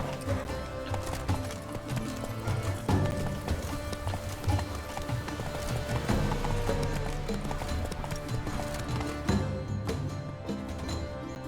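A horse gallops in The Witcher 3: Blood and Wine, its hooves beating a steady, loud clip-clop rhythm over a continuous bed of game music and ambience.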